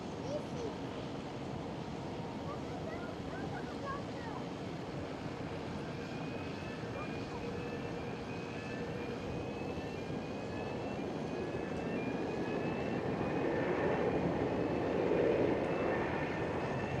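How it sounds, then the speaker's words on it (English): Delta Airlines A330 widebody airliner arriving and touching down at Amsterdam Schiphol, a steady distant jet roar that swells slightly near the end, with a voice talking over it. "Delta Airlines A330, big boy arriving"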